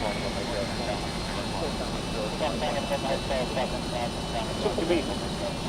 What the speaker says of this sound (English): So now it's over to me for a little bit of taxiing.